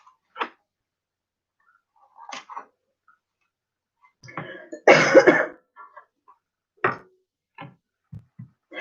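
A person coughing from Palo Santo smoke indoors, a series of sharp, close coughs and throat clearings in irregular bursts, one heavier fit in the middle, separated by silence.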